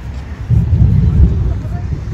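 Low thunder rumbles during a lightning storm at sunset while walking among trees, a dull rolling boom that swells briefly and fades into a steady low background, with no talk.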